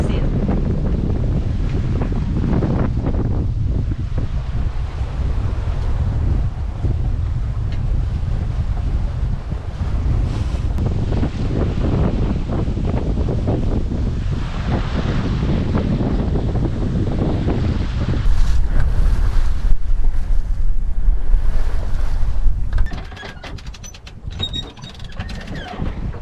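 Strong, gusty northwest wind buffets the microphone aboard a reefed sailboat moving fast, with waves rushing along the hull; the roar is loud and continuous, swelling in a gust before briefly dropping away near the end.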